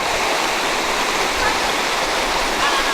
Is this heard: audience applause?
no